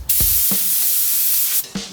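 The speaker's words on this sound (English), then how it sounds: "Okay, now we're gonna spray this." A spray gun gives a loud, close hiss in short bursts, with a brief spurt, a long sustained spray, then another quick burst at the end.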